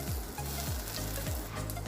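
Butter sizzles in a hot pan as a cucumber salad sandwich toasts, a steady close fry with three evenly spaced scraping strokes of a spatula and no voices.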